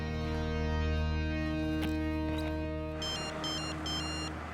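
Telephone ringtone sounding as repeated short electronic tone bursts, three quick chirping groups in the latter half, over a sustained electronic musical background.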